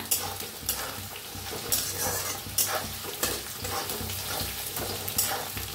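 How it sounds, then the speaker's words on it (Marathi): Potatoes frying in a pan for sabudana khichdi, a steady close sizzle with occasional stirring scrapes and light utensil clinks, no voices. "आणि आपलं बटाटो बी मस्त असं भाजायला लागले बघा"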